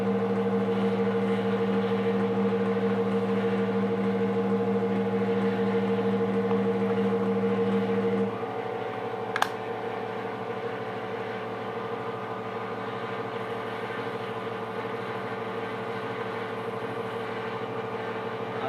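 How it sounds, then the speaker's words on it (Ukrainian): An axial-flux permanent-magnet generator spins with no load, a steady mechanical hum and whine whose tone drops slightly partway through as the motor slows, with one brief sharp click after. "Холостый ход."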